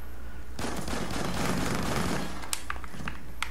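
Rapid automatic gunfire from Call of Duty: Ghosts in a prison-break map, a dense sustained burst of shots, loud and close, ending with a few scattered single cracks.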